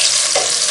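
Onion pieces dropped into a pan over low heat to sweat for mussels Provençal, giving a steady, close hiss and sizzle with a brief rise as the food lands.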